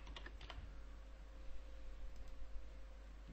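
Keys on a computer keyboard click in a short, quiet burst of typing as a search word is entered, set against a steady low hum.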